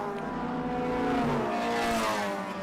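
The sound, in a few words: race cars coming over the line at Winton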